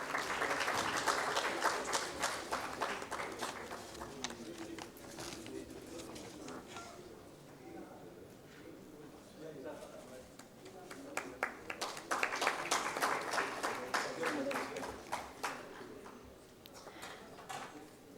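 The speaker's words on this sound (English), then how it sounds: "Kindly give him a big round of applause." A large audience at a corporate felicitation ceremony applauds in two sustained waves of dense clapping with a quieter lull between, while pigeons coo faintly nearby.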